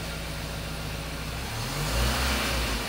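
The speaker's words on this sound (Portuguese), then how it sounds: "O carro entra em funcionamento." A Ford EcoSport engine starts and runs once its fuel pump is switched on: a close, steady mid-pitched hum that rises as the engine revs slightly partway through, with no talk.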